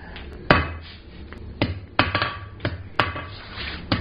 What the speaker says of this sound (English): I'm going to be working on the step of the anvil here using the flat side of my hammer